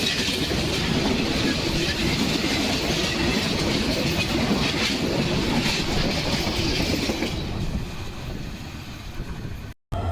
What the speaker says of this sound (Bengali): আন্তনগর রংপুর এক্সপ্রেস আমাদেরকে আত্রাই রেলওয়ে স্টেশনে বসিয়ে দ্রুতগতিতে থ্রুপাস যাচ্ছে